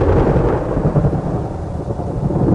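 Heavy rain pours and thunder rumbles continuously over the African savanna, a loud, dense, enveloping storm with no voices.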